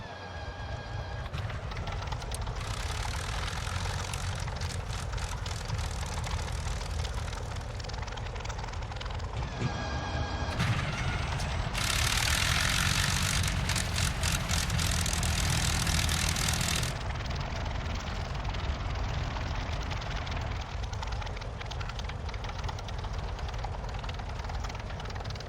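A Curtis P-40F Warhawk's engine starting in Microsoft Flight Simulator, a loud, steady propeller-aircraft roar running throughout with a brief dip and a harsher surge midway, no talk.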